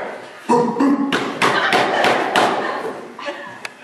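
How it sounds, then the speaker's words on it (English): A door is kicked in as a sound effect in a spoken villain story: a sharp thud and crash followed by a burst of splintering, clattering impacts that trail off, with a brief voice heard near the end. "And he kicked in the door."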